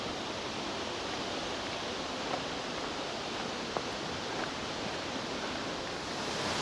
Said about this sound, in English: Here the waterfall just sort of goes over the path